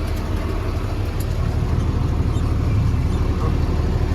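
A vehicle engine on a farm rumbles steadily at low pitch while backing out, close by and constant throughout with no talking.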